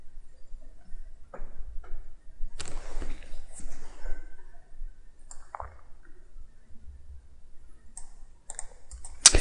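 Computer mouse clicks while modeling in Inventor CAD software, sparse sharp clicks spaced irregularly over a low background hum, close and fairly quiet.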